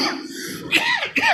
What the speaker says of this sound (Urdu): بے آرامی کی وجہ سے نا مجھے کچھ کھانسی ہو جاتی ہے